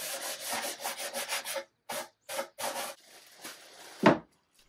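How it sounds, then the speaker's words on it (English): A sanding sponge rubs along the edges of wood veneer in a run of quick, close scratchy strokes, followed by a few separate passes and ending with a sharper knock. "I used a sanding sponge to clean up the edges"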